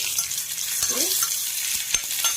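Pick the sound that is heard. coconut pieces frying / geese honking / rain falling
coconut pieces frying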